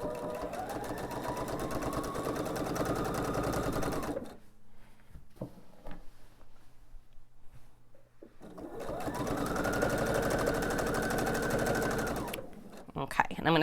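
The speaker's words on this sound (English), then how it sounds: "So I'm going to go ahead and sew." A sewing machine stitches the binding onto a baby's quilt, running in two steady, loud, rapid bursts separated by a quieter pause filled with small handling clicks and fabric rustles.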